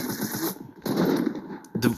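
Bursts of rapid gunfire inside a building in a Fortnite match, loud and dense, with two clear volleys separated by a short gap.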